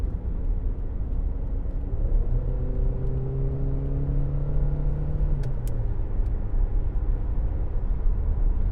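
A car engine rumbles and rises as a vehicle passes close by, its steady hum swelling in the middle and then fading under constant background noise.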